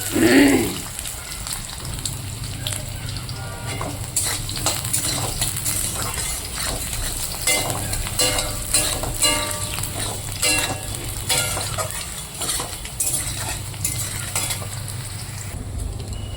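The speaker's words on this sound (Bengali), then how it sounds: "আলুগুলো ভেজে নেবো" Continuous crackling sizzle of potatoes frying in a pan, with scattered clicks and scrapes throughout and a brief louder burst at the start.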